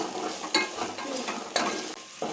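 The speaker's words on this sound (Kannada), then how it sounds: "ಇದಕ್ಕೆ ಒಂದು ಸ್ವಲ್ಪ ಈರುಳ್ಳಿ ಹಾಕ್ತಾಯಿದ್ದೀನಿ" Chopped onion frying and being stirred in a pan for rice bath, a steady close sizzle broken by a few louder scraping stirs, with no talking.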